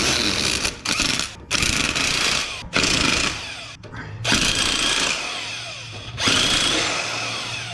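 An impact-style power tool snugs up bolts on a 6-inch Rough Country lift kit on a Ford Super Duty truck, firing in several loud, rattling bursts separated by brief pauses.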